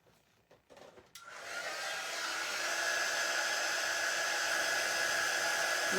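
A hair dryer blows onto apron fabric, switching on after a few soft handling clicks and then holding a loud, steady, close whoosh with a high whine.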